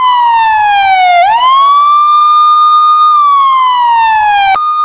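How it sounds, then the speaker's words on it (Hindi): Ambulance siren wailing loud and close, a single continuous tone sweeping slowly down, then rising and holding, then falling again, with nothing else audible. "पाकिस्तान में चारों तरफ एम्बुलेंस की आवाज और एम्बुलेंस के सायरन गूंज रहा था"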